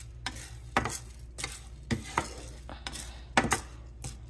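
Barley is dry-roasted in a pan and stirred with a utensil, giving a string of close scraping and clinking knocks at an uneven pace over a faint background hiss, with no talking.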